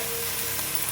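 Boiled, drained cauliflower dropped into a hot tempering for a curry gives a brief, dense, even sizzle that fills the moment without any talking.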